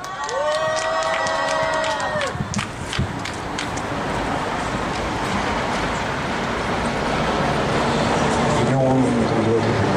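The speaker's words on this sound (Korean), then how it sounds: "박수와 함성으로 맞아주세요." A crowd at an outdoor candlelight rally for a labor struggle applauds and cheers to welcome a singer, a dense wash of clapping that swells toward the end, with voices over it.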